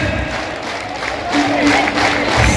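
A large crowd of government employees at a pension rally in Shirdi, clapping and cheering as a steady, dense roar that swells slightly halfway through.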